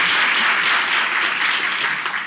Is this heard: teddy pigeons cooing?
no